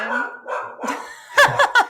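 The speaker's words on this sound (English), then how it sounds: "Luana had a little barking fit because UPS was here" A pet dog named Luana lets out a short burst of loud, close barks near the end, preceded by quieter whines and yips.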